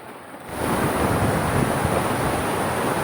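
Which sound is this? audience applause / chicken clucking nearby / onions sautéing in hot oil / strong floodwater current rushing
strong floodwater current rushing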